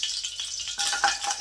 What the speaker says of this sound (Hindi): ऑयल गर्म हो चुके हैं। अब हम इसमें गुड़ ऐड करते हैं।